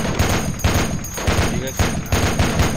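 Automatic gunfire shooting through a wall in Project Reality, a steady run of rhythmic, punchy bursts, loud and close, with voices faintly underneath.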